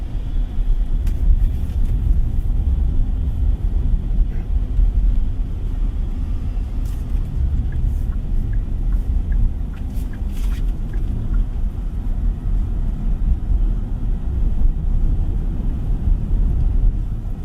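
Steady low road rumble and faint tire hum inside a 2026 Kia EV5 cabin while driving, continuous and even throughout with no talking.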